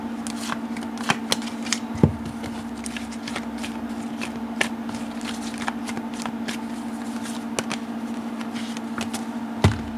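Tarot cards are shuffled by hand in a series of soft, close riffling snaps and taps, with a few sharper cuts, over a steady background hum.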